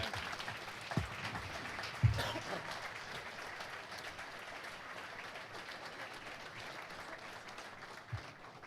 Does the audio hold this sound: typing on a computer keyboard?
no